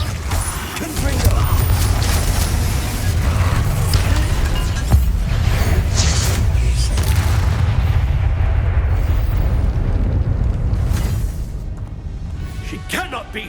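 Confringo fire spell blasts in Hogwarts Legacy, with loud booming explosions over a dense continuous roar of combat noise, and a voice shouting through the din.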